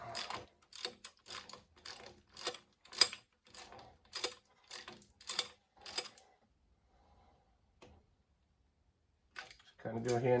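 A ratchet tightening timing chain tensioner bolts on an engine, with a quick run of close, sharp clicks followed by a quiet pause, then a brief voice at the very end.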